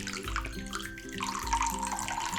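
Hot water pours steadily from a kitchen tap into a container for wholewheat sourdough dough, a close, constant rushing stream with a faint rising tone as the vessel fills, with no voices.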